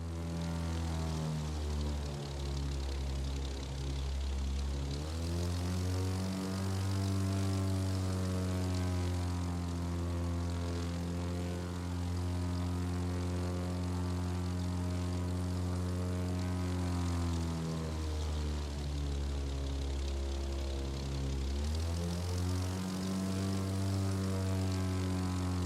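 A propeller airplane in The Crew 2 flies a full loop, a steady loud engine drone with stacked harmonics that dips and swells twice as the throttle and pitch change, with no voices.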